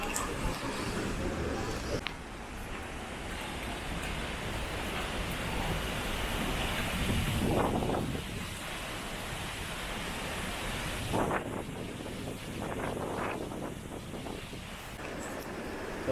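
Steady roar of a strong river current near a high waterfall, a constant broad rushing wash with a voice speaking faintly over it at moments.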